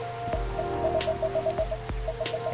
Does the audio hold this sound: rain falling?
yes